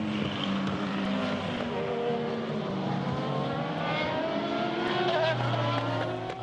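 Diesel prototype race cars in a Le Mans Series race, a dense, loud pack of engines droning and howling together with rising and falling pitches, sustained throughout, with faint commentary underneath.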